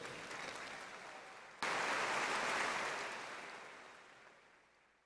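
Applause from a graduation ceremony audience honoring doctoral graduates, a dense wash of clapping that starts softly, swells abruptly into a loud full-room ovation, then gradually fades away, with no talking over it.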